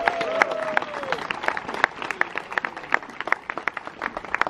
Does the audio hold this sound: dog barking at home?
no